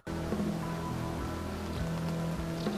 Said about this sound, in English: blood rain, man. It's terrifying.